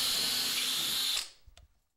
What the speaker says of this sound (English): Drill the holes in the drywall.